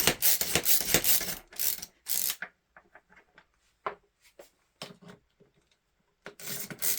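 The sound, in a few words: Yankee style ratchet screwdriver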